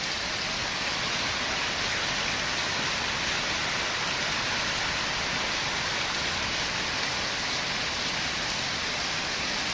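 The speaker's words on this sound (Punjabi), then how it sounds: "ਲੋ ਸਵੇਰੇ ਸਵੇਰੇ ਅੱਜ ਮੀਂਹ ਲੱਗਾ ਆ ਫੇ ਪੂਰਾ ਜੋਰਾਂ ਦਾ" Dense, steady roar of heavy rain pouring down, a constant hiss with no pauses and no voices.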